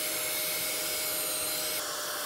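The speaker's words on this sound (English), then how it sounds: "you can improvise a vacuum cleaner extension like so, and get everything nice and particle-free to the extent possible." A vacuum cleaner fitted with an improvised extension hose runs steadily while cleaning a car's engine bay, a continuous airy roar with a slight shift in tone near the end.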